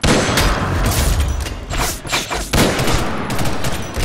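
Rapid bursts of video game gunfire, repeated shots firing in dense volleys, loud and close with brief gaps between bursts.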